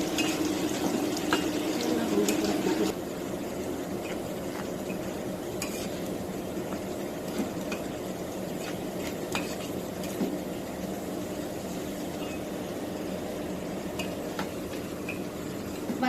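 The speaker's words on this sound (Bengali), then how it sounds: "লাল করে ভেজে নিব।" A spoon stirs frying vegetables in a pan, with a soft steady sizzle and occasional light scraping clicks running quietly throughout, slightly louder at the start.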